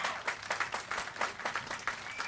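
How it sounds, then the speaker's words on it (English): A small audience at a memorial unveiling claps in a sparse, uneven rhythm, individual hand claps distinct rather than blended, moderately faint and fairly close. "round of applause for that, no question."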